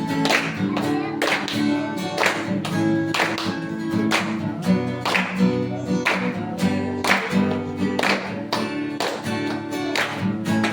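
A worship congregation claps steadily and rhythmically along with music, the sharp, even beats repeating throughout at close range.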